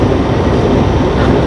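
A double-stacked intermodal freight train passing alongside a highway, a loud, steady low rumble and rolling roar throughout.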